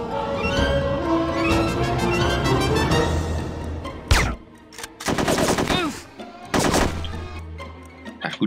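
Gunfire from the video game No One Lives Forever 2: rapid automatic bursts and sharp single shots crackle in a loud firefight, broken by short pauses over game music and ambience.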